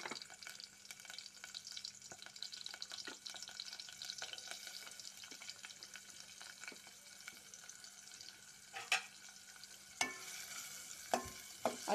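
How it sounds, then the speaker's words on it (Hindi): Onions fry in hot sweet oil for a bhindi dish, making a faint, soft sizzle with sporadic spoon scrapes and clicks that grow more frequent toward the end. "प्याज को थोड़ा मैं लाल करूंगी, इसे लाल कर रही हूँ मैं"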